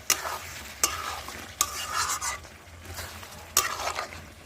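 Chicken kosha sizzles and fries in a pan as a spoon stirs it, the scraping strokes landing every second or so over a soft, steady sizzle, close and fairly quiet.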